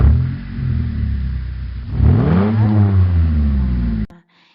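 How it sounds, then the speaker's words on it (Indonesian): A car engine runs loud and near with a low rumble, revving up partway through before cutting off abruptly near the end. No one talks. "Dengarkan lagi bunyi mesin mobil."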